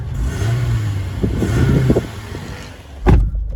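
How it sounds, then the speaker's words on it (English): Toyota RAV4 GXL engine idling, then a few short revs followed by one sharp, louder revving burst near the end, heard close and without talk. "give the car a bit of a rev so you can hear it"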